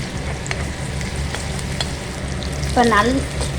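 Steady sizzle of onions sautéing in hot oil with occasional stirring scrapes; a brief voice-like tone rises near the end.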